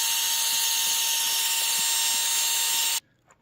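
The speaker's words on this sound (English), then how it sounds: "I'll see if the heat gun can get the irregularities out of there" A heat gun runs steadily at close range with a loud, even broadband hiss and a constant whine, reshaping curved material for homemade Quidditch goal post rings, then cuts off abruptly near the end, leaving quiet.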